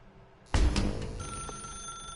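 A telephone rings in The Stanley Parable video game, a sharp bell-like trill that starts suddenly and is cut off, then a steady electronic hum holds on alone with no talk.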